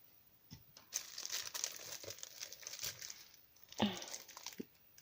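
Scissors cutting open crinkly plastic packaging at a table, giving irregular crackling, rustling and tearing bursts with a few sharper snips, close and moderately loud.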